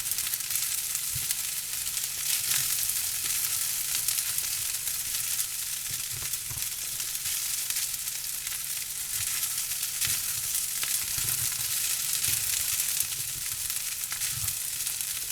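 Pork fried rice being stir-fried in a pan gives a steady, close sizzle with scattered scraping and stirring taps over a long stretch, with no talking.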